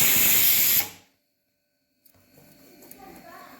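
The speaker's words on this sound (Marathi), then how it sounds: "ही पण भाकरी आपली एका बाजून चांगली शेकली, आता दुसऱ्या बाजून शेकून घेऊया." Bhakri flatbread roasting on a hot griddle gives a loud, close hiss for under a second before it cuts off abruptly, leaving near silence and then faint, low kitchen noise.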